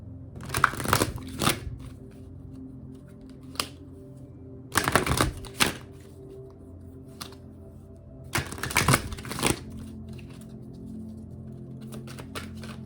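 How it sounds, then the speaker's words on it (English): Tarot cards shuffled in three separate bursts of brisk riffling and slapping, loud and close, separated by quiet gaps with a few soft single card taps, no talk. "All the cards going everywhere."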